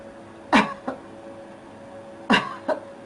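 Two sharp coughs from one person, spaced a couple of seconds apart, each a loud burst with a quieter follow-up catch, over a steady low room hum.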